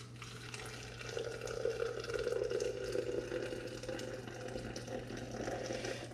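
Hot water poured into a French press for coffee, about 200 milliliters, a steady, fairly quiet continuous pour lasting several seconds without speech.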